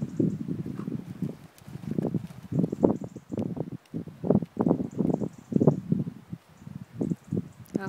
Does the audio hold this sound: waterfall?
no